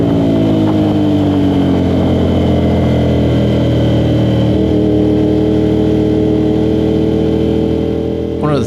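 A motorcycle engine drones loudly and steadily on a racetrack during a track day at the Talladega GP circuit, a sustained close rumble with shifting pitch, with a rider's voice talking over it.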